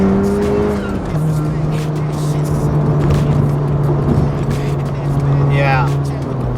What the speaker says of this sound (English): here we go, accelerating onto the freeway, get a better sense of quick shifts